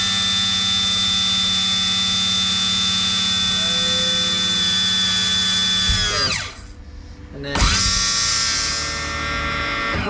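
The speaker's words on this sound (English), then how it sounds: "Alright, so we got the trim pump working." A loud boat trim pump runs steadily with a dense mechanical whine, cuts out briefly for about a second, then starts up again and keeps droning close by with no talking.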